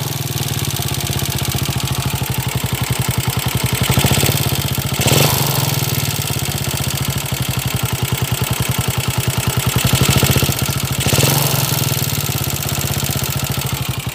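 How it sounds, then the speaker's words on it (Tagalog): A noisy Rider 150 motorcycle engine, its block replaced, runs steadily at idle, close and loud, with a dense rapid clatter and a couple of brief surges in the fourteen seconds, no one talking. "napakaingay ng makina niya mga kabro, pakinggan natin."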